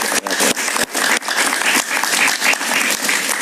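A studio audience at a television talk show claps loudly and continuously, a dense, close burst of applause that holds strong throughout.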